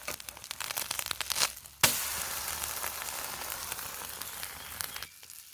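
Red chilli omelette frying in a pan, a steady close sizzle with a sharp crackling burst partway through, then continuous frying hiss that cuts out near the end.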